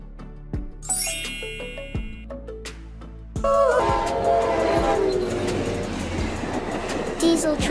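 A steam locomotive train sounds a bell and a bright whistle, then a loud burst of steam and rolling rumble takes over and continues steadily near at hand.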